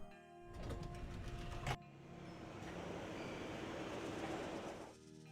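A metro train in the Nancy Drew Scarlet Hand video game rumbles and clatters along steadily at moderate volume, with one sharp jolt partway through before the noise fades near the end.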